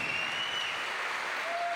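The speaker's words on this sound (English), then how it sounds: "let's give Jörne Kruder a big round of applause" Continuous applause from a crowd at a La Sportiva Legends Only 2018 bouldering competition, cheering for world number one Jorg Verhoeven-style climber Jörne Kruder; steady, dense clapping with no voices over it.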